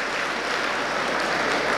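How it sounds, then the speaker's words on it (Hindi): An audience claps steadily, a dense, even wash of hand claps with no voices over it. "दोनों के लिए ताली बजाए"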